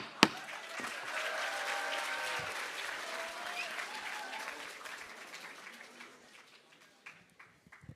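Applause from a school audience after a student council candidate's speech, starting with a sharp bang, then a steady wash of clapping that slowly fades away.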